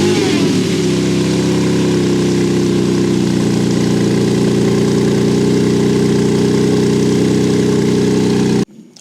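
A Porsche Cayman GT4 RS engine idles after a cold start, a loud, steady, deep rumble held close for nearly nine seconds before cutting off abruptly.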